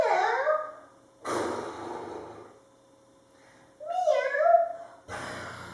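A voice imitates a cat's meow during a preschool yoga story session, giving several drawn-out meows separated by short pauses and breathy sighs, close and clear.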